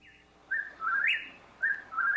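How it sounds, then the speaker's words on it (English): A whippoorwill calls with a few clear, whistled phrases that rise and fall. Each phrase is separated by a short pause and sounds fairly loud and alone. "That's the whippoorwill."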